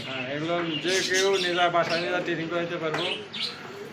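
Racing pigeons cooing and calling at a pigeon market, soft warbling coos close by, mixed with a voice talking.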